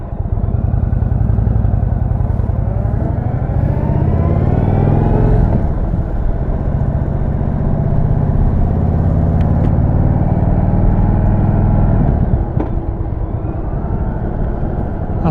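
A motorcycle being broken in rides through countryside, its engine loud and close as it climbs through the gears in long rising sweeps, easing off around the midpoint and again near the end, with wind rumble throughout.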